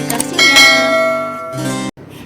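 Notification bell sound effect: a few bright, ringing chimes struck in quick succession, loud and close, with a shimmering tail that cuts off abruptly near the end.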